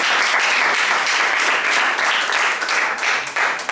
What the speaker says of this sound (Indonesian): tepuk tangan untuk Jeki.